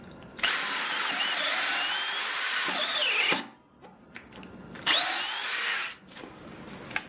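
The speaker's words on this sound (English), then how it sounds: "Now see, the smaller drill bit, it does really freaking good." A 12V cordless hammer drill, Milwaukee or Dewalt, bores holes in wood in two loud, close bursts: a long whining run with rising pitch, a pause with faint handling clicks, then a shorter second burst.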